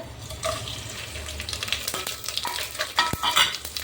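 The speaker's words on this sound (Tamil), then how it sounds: "இப்போ நமக்கு எண்ணெய் காஞ்சிடுச்சு இதில் தேவையான பட்டெல்லாம் கிராம்பு இதை போட்டு" Cinnamon and cloves fry in hot oil in a home kitchen, cooking for prawn biryani, giving a steady close sizzle with small crackles, a few sharp pops and a brief clink near the end, without talk.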